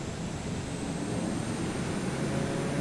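TBM 930 turboprop airplane rolling on a runway with trees overhanging it, giving a steady, broadband engine and propeller roar that holds an even level throughout with no talk.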